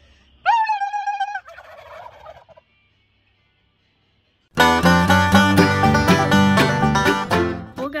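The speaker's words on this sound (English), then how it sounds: "we must be Turkey Central this year because I bet you we have 30 turkeys in the field next to us." Turkeys gobbling in a farm field, a loud close gobble followed by a shorter call, a pause, then a burst of several overlapping loud gobbles from the flock.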